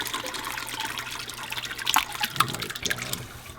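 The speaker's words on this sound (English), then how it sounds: "So I'm gonna pour this into the strainer, and you can see the curd" Mozzarella curd and whey pour into a cheesecloth-lined strainer as a steady, close splashing trickle of liquid with a few brighter splats and drips, and no talk.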